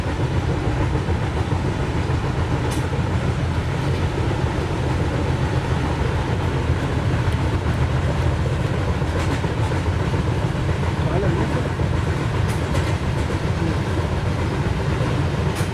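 Simulated Vande Bharat Express train from Train Simulator Classic rolling steadily along the track, a continuous loud rumble with faint rhythmic clatter throughout, a voice speaking over it at times.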